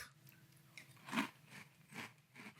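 Costa Rican Naranitas cereal eaten with milk: a few soft crunches and wet chewing sounds up close, with a louder bite near the middle and no talking.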